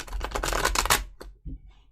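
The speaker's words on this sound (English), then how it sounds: "One more shuffle." A quick riffle of tarot cards being shuffled, a dense flurry of soft snaps, followed by a couple of faint taps and a brief low sound.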